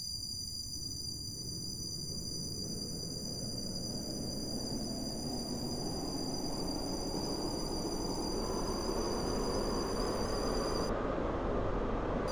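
A Class 458 four-coach train in the Stepford rail game pulls away, its rumble growing steadily louder over twelve seconds with a thin high whine on top that cuts out near the end. No voices.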